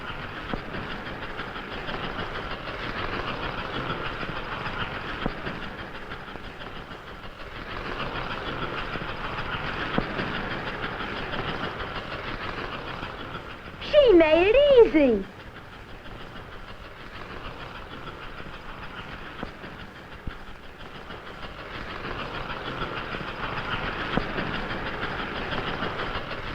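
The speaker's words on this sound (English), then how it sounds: "Watch that locomotive work. Wow, look at that engine climbing." An American Flyer model train locomotive in Union Pacific livery climbs a grade on a layout, giving a steady, soft rumbling clatter throughout, with a short spoken phrase briefly rising over it midway.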